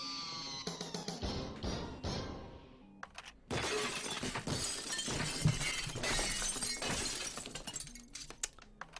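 Glass smashing in a game sound effect, repeated loud crashes and shattering bursts with tinkling debris spread across nine seconds, no voices.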